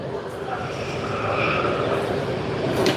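A Qatar Airways Airbus A380 at Sydney Airport gives a steady, broad jet roar that holds level for a few seconds at moderate distance.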